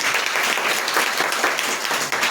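A church congregation claps loudly and continuously in dense, steady applause that fills the room from start to finish.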